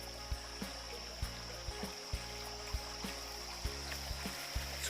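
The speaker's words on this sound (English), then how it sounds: "We made it down to the creek at Buck Trail. It's still flowing pretty good." Creek water flows along Buck Trail in Red River Gorge as a steady soft rush with light irregular knocks and taps, heard alone without talk.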